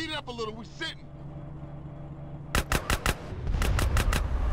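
Bursts of gunfire aimed at a car in GTA San Andreas, two quick volleys of loud sharp shots over a low engine rumble, with a voice talking near the start.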